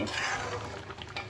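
Dal being tempered in a pan, with a short burst of stirring and light sizzling and utensil scraping against the pot, close and fairly quiet, no talking.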